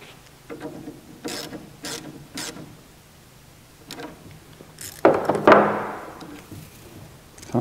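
Ratchet tightening quarter-inch bolts, a series of sharp separate clicks followed by a louder burst of rapid ratcheting, close by, with no talking.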